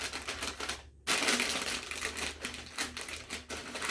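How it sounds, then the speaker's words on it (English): A plastic bag is crumpled around a bottle for a homemade volcano experiment, giving a close, dense crinkling that runs almost continuously after a brief silence near the start, with no voices. "you gotta crumple the bag around the bottle"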